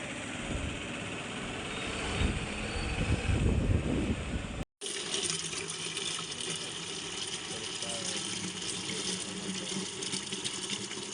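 Tap water running steadily into a container at a roadside source in rural Maharashtra, a continuous close gushing hiss that is heavier at first, briefly cut, then steady and lighter, with no talk over it.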